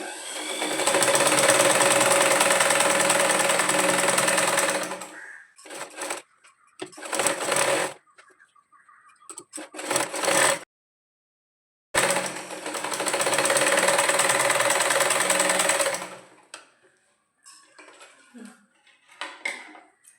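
A sewing machine stitching a child's frock for a four-year-old runs in long steady bursts of rapid whirring, stopping and restarting several times with short quiet gaps between runs.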